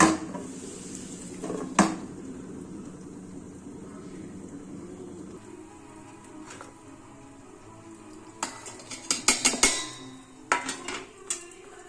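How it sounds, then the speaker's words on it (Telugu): A lid is set onto a cooking pan on the stove, giving a few sharp metallic clanks and rattles near the end over a faint background hiss. "మూత పెట్టేస్తున్నానండి."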